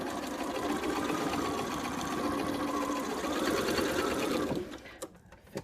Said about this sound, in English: I'm going to sew all the way to the end, making sure I'm catching all the pieces.